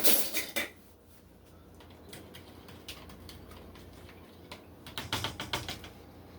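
A yeast mixture for homemade pizza dough is given a little stir, making quick, light clinks and taps of a utensil against a bowl, in bursts at the start and near the end, fairly quiet and without talk.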